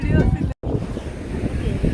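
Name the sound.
strong wind at the beach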